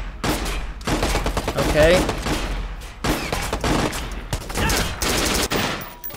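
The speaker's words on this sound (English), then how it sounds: "why are they throwing grenades?" Rapid gunfire and blasts in the video game Watch Dogs: Bad Blood, dense clusters of shots in repeated bursts, loud and close, with a brief spoken word among them.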